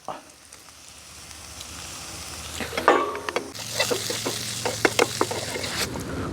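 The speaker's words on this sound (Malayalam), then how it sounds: "ഇപ്പോൾ ഞാൻ ചെയ്യാൻ പോണതേ ഞാനീ ഉള്ളി ഇതിൻ്റെ അകത്തേക്ക് ഇടാൻ പോവുക" Onions dropped into a hot pan with wild mushrooms start to fry, a quiet sizzle that swells into a louder, crackling fry with sharp spits and stirring.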